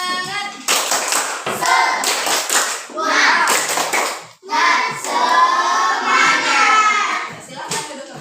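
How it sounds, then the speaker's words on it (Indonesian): Children in a classroom do a rhythmic spirit clap, standing and clapping in patterned bursts while chanting along loudly together, with short pauses between clap sequences. "Kita mau tepuk semangat biar tetap semangat ya."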